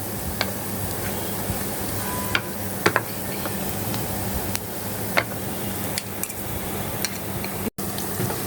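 Onions fry in a pan, browning to a reddish colour for a spicy chepa dried-fish bhorta, with a steady, close sizzle broken by occasional sharp clicks from stirring.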